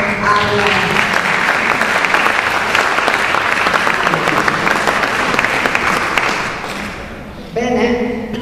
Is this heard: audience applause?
yes